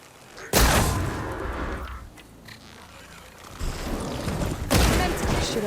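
Shots at a machine's horns in Horizon Forbidden West, with two sharp loud blasts a few seconds apart and a lingering rumble and clatter of combat between them.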